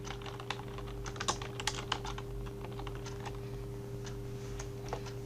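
Fast, soft typing on a computer keyboard against a steady background hum, with a few sharper key presses such as Enter standing out; no one speaks.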